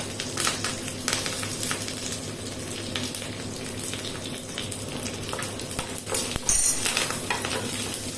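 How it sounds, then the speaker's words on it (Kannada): Cumin seeds, curry leaves and a cut dried red chili fry in hot oil, a dense, steady crackling sizzle with spoon stirring and a louder burst near the end, close and continuous without speech. "ಒಂದು ಅರ್ಧ ಟೀ ಸ್ಪೂನಷ್ಟು ಜೀರಿಗೆಯನ್ನು ಕೂಡ ಹಾಕ್ತಾ ಇದ್ದೇನೆ ಅರ್ಧ ಟೀ ಸ್ಪೂನಷ್ಟು ಬೇಳೆ ಬೇವು ಸೊಪ್ಪನ್ನು ಕೂಡ ಹಾಕಿಕೊಂಡೆ"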